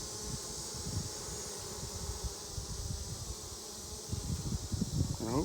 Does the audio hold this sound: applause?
no